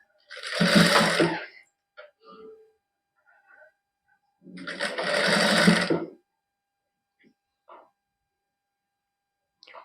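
A sewing machine stitches lace onto a lined suit with embroidered work, running in two loud bursts of steady whirring separated by quiet pauses with faint handling clicks.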